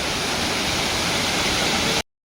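A waterfall pours down a hillside, a steady, loud, broadband roar of falling water heard alone, cutting off abruptly near the end.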